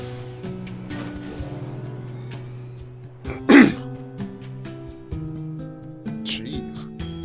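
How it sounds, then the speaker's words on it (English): A single loud, sharp cough bursts close into a microphone, standing out briefly over a steady background of game music and sound effects, with no talking at that moment. "I practically exploded the mic. That cough."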